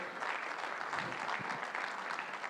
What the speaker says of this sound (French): Cher ami Helmut, sous vos applaudissements.